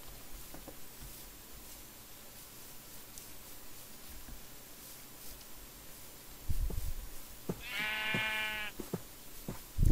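In the Minecraft video game, a sheep bleats once in a wavering, vibrato cry near the end, preceded by quiet ambient game sounds and a few soft thuds.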